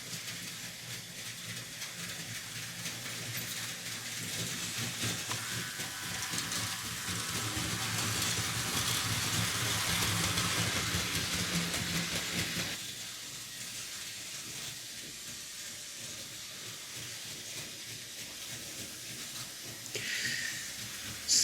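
A Märklin 3133 SNCB/NMBS HLD 54 electric model locomotive runs steadily along the track and around curves, a continuous hissing whir with faint clicking, swelling louder midway then easing off.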